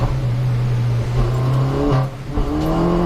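Mini Cooper S race car from the 2018 Mini Challenge at Brands Hatch, its engine droning loudly and steadily from onboard, dipping briefly around the two-second mark before rising again in pitch.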